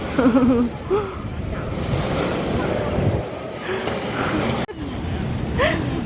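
Surf washing onto Pattaya beach in Thailand, a steady broadband roar with wind buffeting the microphone, while people chat and a brief rising voice cuts through near the start.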